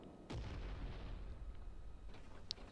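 Tank cannon fire in the War Thunder video game, a single deep boom early on, followed by a rumbling battle backdrop and a few faint distant pops.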